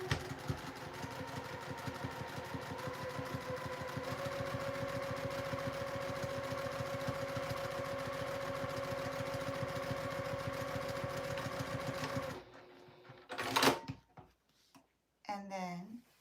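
A sewing machine runs steadily, stitching seam to seam on a fabric Santa caddy, its rapid mechanical chatter continuing for about twelve seconds before stopping, followed by a few brief handling sounds.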